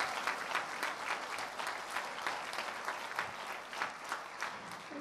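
Steady applause from a graduation ceremony audience fills the whole stretch, a dense even patter of many hands at moderate volume with no voices on top.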